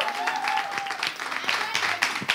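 A live audience applauds during a French-language talk show, a steady patter of clapping mixed with a voice and a thin tonal line.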